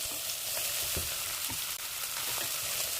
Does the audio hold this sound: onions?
yes